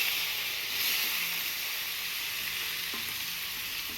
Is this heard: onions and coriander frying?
yes